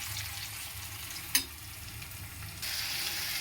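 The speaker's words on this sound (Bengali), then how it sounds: "কুমড়ো সেদ্ধটা আমি কড়াইয়ে দিয়ে দেব কড়াইয়ে পেঁয়াজটা ভাজা হয়ে গেছে কড়াইয়ে দিয়ে দেব" Boiled, hand-mashed pumpkin fries with browned onions in a wok, a moderate steady sizzle broken by a sharp clink, then growing louder and fuller toward the end.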